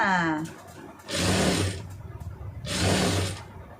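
A sewing machine stitches a round neckline in two loud, close bursts of rapid whirring, with someone talking in between and over the stitching.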